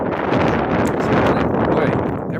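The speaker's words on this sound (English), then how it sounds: "I wonder if that's just kind of naturally windy out there" Wind buffets the microphone outdoors, a loud, steady roaring rush that runs unbroken from start to finish.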